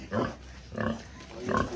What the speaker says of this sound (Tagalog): Tingnan natin baboy.